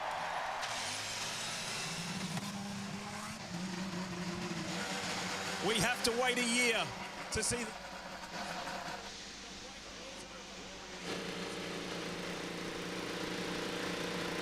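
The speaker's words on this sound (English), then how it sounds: "The engines are firing here at the Indianapolis Motor Speedway, the racing capital of the world." IndyCar race car engines fire up at the Indianapolis 500 at Indianapolis Motor Speedway, a dense, steady roar over broad crowd and track noise, swelling briefly midway, with a voice speaking over it.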